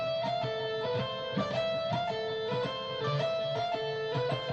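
Electric guitar playing pentatonic lead notes in a steady, repeating dotted-eighth and sixteenth rhythm, each picked note clearly attacked, up close and alone.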